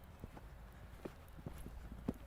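A horse cantering on an arena line in a riding lesson gives a few sparse, soft hoofbeats at a distance over a steady outdoor background noise.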